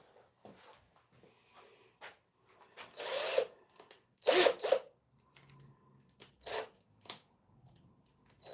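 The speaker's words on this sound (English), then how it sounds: "I want like the biggest drill I can find" A power drill whirs in a few short bursts, with one louder, longer burst in the middle, separated by quiet handling and clicking sounds.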